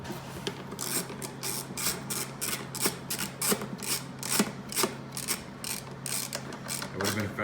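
A 3/8-inch Pittsburgh ratchet tightens bolts on loose chairs, its pawl clicking in quick, steady bursts of sharp metallic ticks up close, with a low mechanical hum underneath and no talking.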